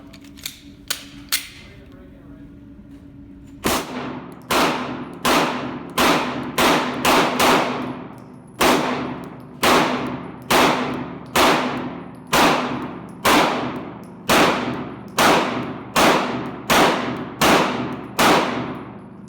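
A bronze-finish Glock 19X pistol fires at a shooting range: a few quick shots, a pause, then a long, steady string of about sixteen loud, sharp reports with ringing decay, close to the listener.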